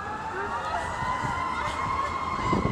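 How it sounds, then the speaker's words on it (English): Emergency sirens from ambulances and rescue trucks carrying the jaws of life, responding with lights and sirens, wail steadily and loudly through the whole stretch, overlapping tones sustained beneath a murmur of background voices. "ambulances and rescue trucks that hold the jaws of life, and they're responding lights and sirens"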